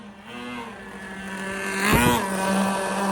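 Small nitro-powered RC car engine running with a steady high-pitched buzz that revs up sharply midway, then settles back into a loud, even drone close by.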